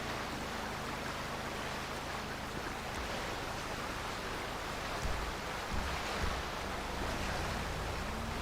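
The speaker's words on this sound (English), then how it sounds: "Even though the water's rushing the way it is" Rushing water and crashing waves in GTA V form a steady, broad, loud wash of surf noise, continuous and unbroken throughout with no talk.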